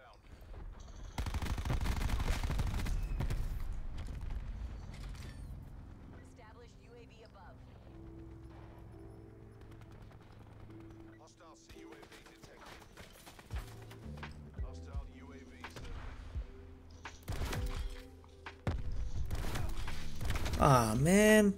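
Bursts of rapid MX9 submachine gun fire in Black Ops 4 crackle in loud clusters with pauses between, alongside other game effects and a player talking intermittently.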